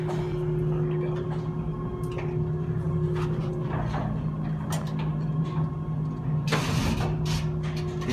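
A small Otis gated traction elevator with dead-man controls, in a building on Newbury Street in Boston, travels with a steady motor hum and drone, broken by occasional clunks and rattles of the car and gate.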